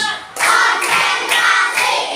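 A primary school class of fourth graders clapping in unison to a clap routine, four loud sharp group claps spaced evenly in a steady rhythm.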